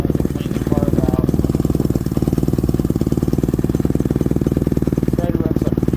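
A Predator 3500 generator runs rough, its engine close and loud with a fast, uneven chugging pulse, likely from a bad carburetor. Brief voices come through over the engine noise.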